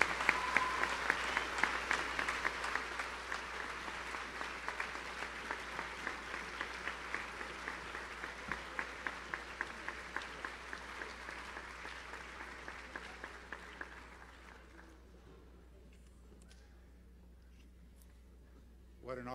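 An audience claps loudly at a sports announcement event, the applause gradually thinning to a few scattered rhythmic claps before fading out into near silence.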